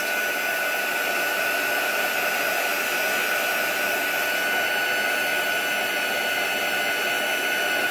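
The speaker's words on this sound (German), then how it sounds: "Ich föhne ganz gerne, wenn ich merke, dass sich das Papier zu sehr biegt von der Unterseite" A hair dryer blows hot air to melt embossing powder on paper for card making, a loud, steady whirring roar that runs unbroken throughout, with no one speaking.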